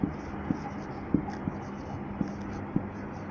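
Pen or chalk strokes during a third-grade math lesson, five or six light, evenly spaced taps and short scratches over a quiet, hissy background, with no talking.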